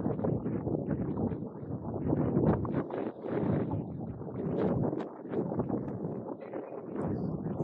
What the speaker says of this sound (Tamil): காற்றும் கடுமையாக இருக்கு.